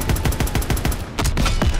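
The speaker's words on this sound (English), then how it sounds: "I gotta figure out how to fire this damn coaxial machine gun" Rapid machine-gun bursts from a tank's coaxial gun in the World War II video game Call of Duty WWII, loud and close, a fast even stream of shots with a brief pause before firing resumes.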